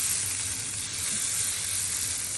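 Nachni (finger millet) amboli batter sizzles steadily on a hot iron tawa, a continuous close, even frying hiss with no voices.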